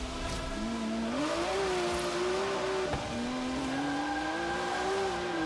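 A hypercar engine in Forza Horizon 3 drones steadily, its pitch rising and falling as the throttle is eased on and off, with a brief gearshift dip midway and faint tire noise beneath.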